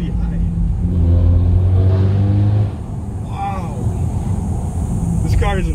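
A BMW 520d diesel engine revving hard under full throttle, rising in pitch in steady steps before dropping off, then climbing again as the car pulls away, loud and close with a voice talking over it.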